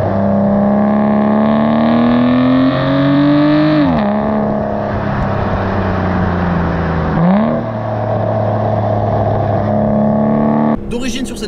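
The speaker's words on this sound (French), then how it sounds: "la voiture elle avance avec tellement de force, il y a tellement de couple" Aston Martin DBS engine revving hard through rising gear pulls, pitch climbing then dropping at each shift, loud and close from inside the cabin, with a brief drop-off near the end.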